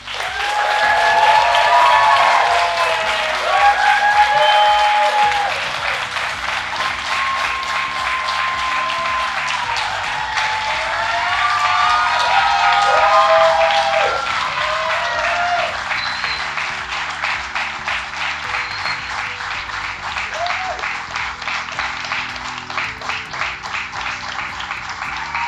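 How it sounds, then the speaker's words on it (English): An evening crowd gives a long round of applause for participants called to the stage at a UC Davis event, dense sustained clapping with a few voices and whoops rising above it throughout. "join me in giving them another round of applause"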